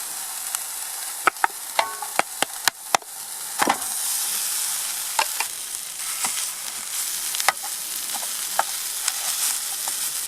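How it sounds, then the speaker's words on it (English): Bully beef fries in its own rich, gelatinous fat with a steady, close crackling sizzle, broken by occasional sharp clicks and scrapes as it is stirred in the pan. "We'll let that sizzle away."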